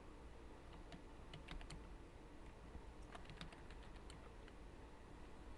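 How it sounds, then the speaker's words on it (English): Someone types a name on a computer keyboard, producing quiet, quick bursts of key clicks in two short flurries against a faint steady background hiss. "we can start to type this person's name in."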